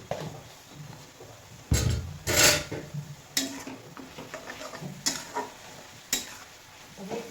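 Spinach stir-fry for a dry palak bhaji is stirred in a pan, with a low sizzle beneath and several sharp scrapes and clanks of the spoon against the pan, irregularly spaced.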